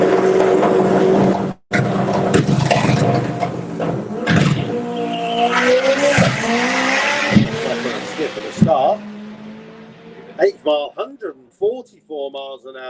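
A turbocharged VR6 car accelerates hard on a speed run at a GTI show, its engine note climbing steadily beneath loud, continuous commentary from an announcer.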